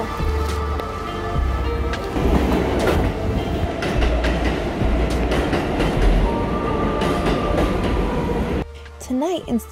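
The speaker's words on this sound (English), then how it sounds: "What's it gonna do when the train starts getting closer?" A New York subway 7 line train approaches, its rumble and clattering wheels building loud and close with brief squeals, as people talk and exclaim over it.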